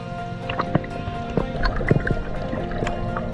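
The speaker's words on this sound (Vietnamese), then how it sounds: "Trong này có nhiều thác nhân tạo khá đẹp nha." Water splashes and drips at artificial waterfalls at Suối Mơ in Tân Phú, with scattered irregular splashes and gurgles over a steady background murmur.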